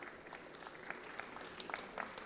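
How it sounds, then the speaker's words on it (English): An audience claps at a jewellery industry event in a hall, a brief, faint and even patter of applause with no voices over it. "a round of applause"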